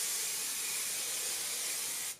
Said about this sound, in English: Shake well, spray on hair from about 10 inches away.